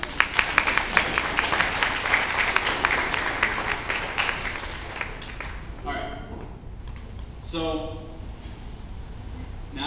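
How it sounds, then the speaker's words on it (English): Audience at a physics circus show bursts into loud, dense applause that fades after a few seconds, followed by voices talking and a brief tone. "Again, round of applause."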